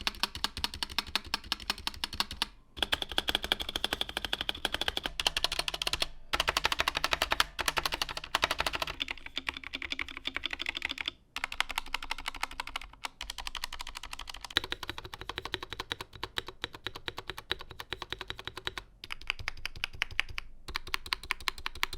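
Corsair, Razer and GMMK2 mechanical keyboards are typed on at length. Keystrokes clack in fast, dense runs, with brief pauses between bursts, close and crisp, with no one talking.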